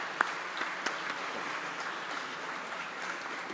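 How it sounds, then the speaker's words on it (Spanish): Steady audience applause fills the room at a panel session of a 2015 forum, a broad even clatter of many hands with a couple of sharper claps near the start and no talking over it. "Fuerte aplauso,"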